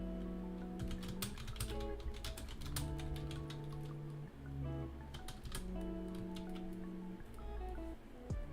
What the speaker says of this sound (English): I feel like my keyboard typing is really in this microphone.